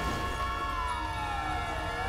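An emergency vehicle siren wails steadily and loudly in a GTA 5 game session, its pitch sliding as it cycles.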